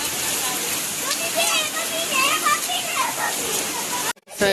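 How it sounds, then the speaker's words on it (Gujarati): Heavy rain with a strong windstorm pours in a constant, dense roar, with a voice talking over it, briefly dropping out near the end. "વરસાદ છે, અતિશય વાવાઝોડા સાથે વરસાદ."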